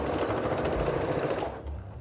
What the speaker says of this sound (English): I'm just gonna sew down about 1/2 inch.